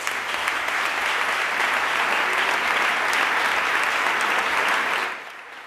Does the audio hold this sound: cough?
no